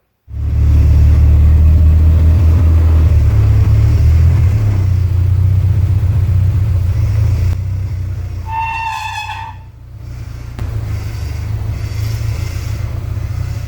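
A minitruck engine starts and then runs steadily outdoors as a loud, close, deep rumble. A brief high whine cuts in partway through and the engine dips for a moment before settling back to an even idle.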